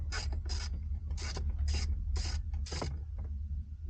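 A ratchet loosens a tight screw on a Jeep grab handle in six quick, crisp clicking bursts, heard close against a low background rumble.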